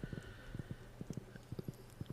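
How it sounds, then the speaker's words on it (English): A horse's hooves clip-clop in an even, quick rhythm in the Stardew Valley video game, clear and close at a steady pace over faint background music. "getting on your horse works so well"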